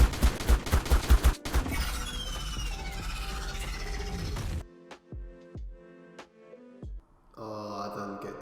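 Gunfire in ARK: a rapid burst of loud shots at first, then dense chaotic firing, then a few separate sharp shots with gaps between them.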